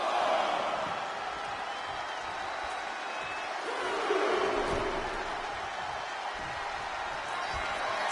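Wrestling arena crowd cheering and roaring as a performer rallies them, a broad steady wash of noise with occasional swells and shouts.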